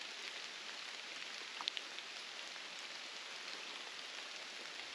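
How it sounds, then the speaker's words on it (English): Steady, faint rain falls on a backpacking trail in Nantahala National Forest, a soft continuous patter with a couple of slightly nearer drops standing out, no voices. "There's something so surreal about rain days on the trail."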